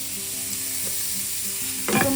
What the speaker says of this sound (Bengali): তো এখন একটু পেঁয়াজ ভাজছি